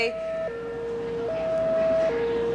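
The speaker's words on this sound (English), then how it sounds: "is that a siren that I'm hearing where he is?" A siren wails in a two-tone pattern, alternating pitch steadily at moderate volume, somewhat distant with faint background noise.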